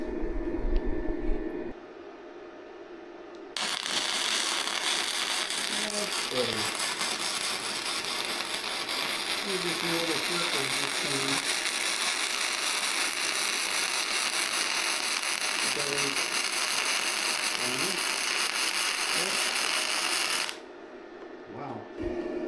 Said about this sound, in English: That sure does weld nice.